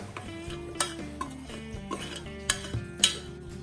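A utensil clinks and scrapes against a metal pot as softened pepper and onion for a pressure-cooker asopado are moved into a blender, with irregular sharp taps over a low background hum.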